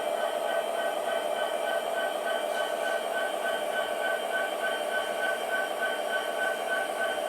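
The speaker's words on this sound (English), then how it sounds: "We can also move the engine forward." A steady mechanical whir with a faint rail hum runs continuously as an MTH model train engine moves forward along track, with no talking.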